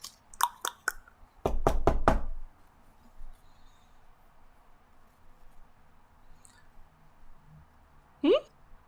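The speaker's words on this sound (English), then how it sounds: "You hear knocking." Knocking on a door: a few sharp raps, then a quicker, heavier cluster of knocks, close and distinct, followed by a quiet stretch with faint sounds and a brief voice.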